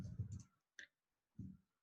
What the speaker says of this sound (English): I keep looking at my keyboard when I type